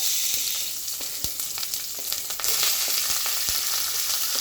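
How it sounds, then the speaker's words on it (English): Onions sizzle loudly in hot olive oil, a steady crackling hiss with occasional sharper pops and stirring sounds. "So now I'm gonna add my onions to a little olive oil."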